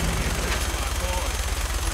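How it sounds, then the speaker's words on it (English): Rapid, dense gunfire fills a combat scene in the video game Fallout 4, a continuous loud clatter of shots with no break. "Are you really trying to shoot me?"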